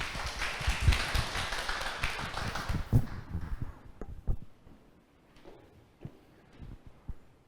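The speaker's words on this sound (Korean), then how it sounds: "큰 박수 부탁드립니다." An audience at an academic conference session applauds, a dense, moderately loud burst of clapping that fades out after about three seconds, leaving faint scattered taps and room noise.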